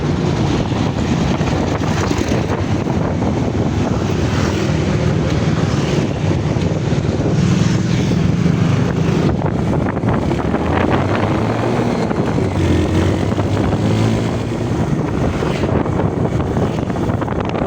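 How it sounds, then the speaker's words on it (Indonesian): Strong, gusty wind buffets the microphone outdoors on an overcast day near a beach road, a loud, continuous roar with rumbling low-end gusts and no one speaking. "Udara berangin kenceng ya, jadi kayaknya arahnya dari barat."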